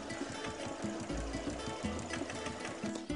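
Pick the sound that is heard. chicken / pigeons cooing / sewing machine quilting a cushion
sewing machine quilting a cushion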